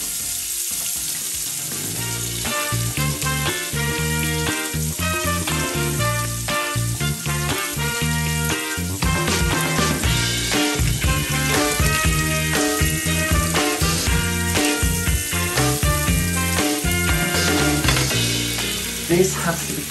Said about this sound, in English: I'm actually going to fry some onions. I'm going to put a few onions there to start with. I'm going to put a little bit of butter.